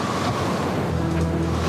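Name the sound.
storm at sea, waves and wind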